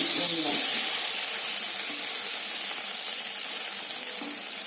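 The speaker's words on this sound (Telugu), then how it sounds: "వెన్నంతా కరిగినాక గురుగు వస్తుంది పైకి ఇట్లా అట్లా చితపటలు ఆడుతూ ఉంటుంది" Butter melting in a hot pan while making ghee, a steady soft sizzle and bubbling hiss that fades slightly over a few seconds, with no talk over it.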